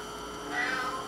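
A single short cat meow inside a jewellery studio, faint and mid-distance over a steady electrical hum, with no talking.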